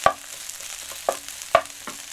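Rice and sardines being stir-fried in a pan with the heat switched off: a soft, steady sizzle broken by four sharp scrapes and taps of a utensil against the pan, close and with no talking.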